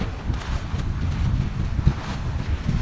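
Strong wind buffets the microphone on a road beside open water on the way from Habiganj to Mithamoin, a constant low roar with gusty swells and waves washing underneath, no voices.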